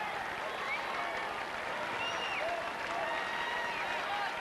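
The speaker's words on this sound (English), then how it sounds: "The crowd trying to give him as much encouragement as possible." A tennis crowd applauds and cheers steadily throughout, a dense wash of clapping at moderate distance during a fifth-set match, with a commentator's voice faintly over it.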